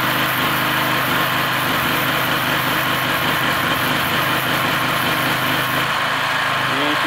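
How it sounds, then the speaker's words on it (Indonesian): Generator, a GGA 3900, running a gasless MIG welder with a constant loud engine drone and hum that stays steady throughout, with no break in the sound. "mesinnya dan gensetnya itu sangat stabil sekali"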